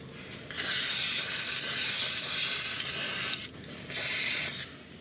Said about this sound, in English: hand me the spray lube, I'm gonna spray it down